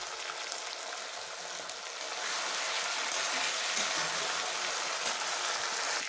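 Onion frying in a pan with ginger-garlic paste, a steady dense sizzle that swells louder after the first couple of seconds and holds, close and continuous, with no talking.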